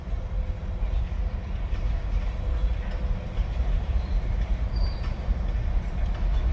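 ELS 503, a diesel locomotive, pulls a string of 70 rail cars off a storage track with a steady loud rumble and faint squeals from the wheels, close by and continuous.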